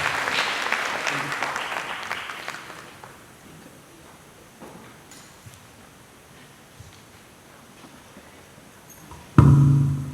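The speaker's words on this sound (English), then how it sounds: "Yes, please give her a round of applause." Audience applause at a women's wellness event greets a speaker, loud at first then thinning out and fading to scattered claps, before a sudden loud burst near the end.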